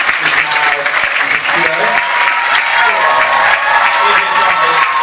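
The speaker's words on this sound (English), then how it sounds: "So can I have a big round of applause, please?" A school audience applauds staff called up front, loud, dense, sustained clapping with some crowd noise mixed in throughout.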